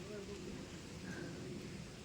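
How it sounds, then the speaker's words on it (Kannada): Heavy rain falls on a farm garden planted with custard apple, sapota, pomegranate and guava trees, a steady, even hiss throughout, fairly faint and without distinct drops. "ಮಳೆ ಜಾಸ್ತಿ ಆಯಿತು ನೋಡಿ"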